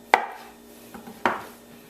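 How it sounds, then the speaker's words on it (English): A knife slicing cooked breadfruit thinly on a board, with two crisp, close cuts and a faint tap between them. "we're going to slice the cooked breadfruit and set it aside there"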